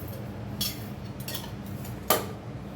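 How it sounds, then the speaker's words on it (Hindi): A spoon scoops sugar and taps against a pot of sweet Rajasthani rabri, giving a few light metallic clinks, the sharpest one near the end, over steady low kitchen hum. "2-2 चम्मच हम इसमें डाल देंगे चीनी"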